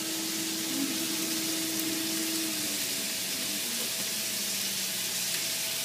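Garlic fries in a pan over moderate heat, giving a steady soft sizzle with a faint hum underneath and no talking.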